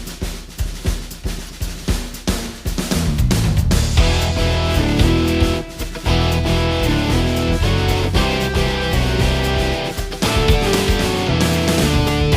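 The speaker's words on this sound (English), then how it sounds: "Some drums in the beginning." Programmed drums from a demo project in FL Studio, starting as a sparse, punchy beat before a full funk band texture with bass and keys fills in, loud and continuous with no talking.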